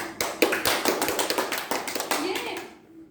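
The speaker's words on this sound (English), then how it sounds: "Give an applause to Miss Adi Nur." Applause at an international education seminar: a small audience claps with distinct, sharp hand claps that fade out after about three seconds, with faint voices underneath.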